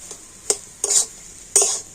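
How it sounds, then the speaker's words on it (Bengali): A spoon scrapes and stirs through a thick spiced potato filling for singaras in a pan, three short bursts of scraping separated by brief pauses, close and clear. "বন্ধুরা এই মশলাটা দিয়ে আবার একটু ভালো করে নাড়াচাড়া করে নেব"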